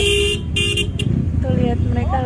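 Congested traffic during a Qatar National Day convoy, with car engines rumbling steadily and a few short horn toots near the start, people talking throughout.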